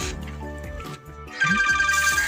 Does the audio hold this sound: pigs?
no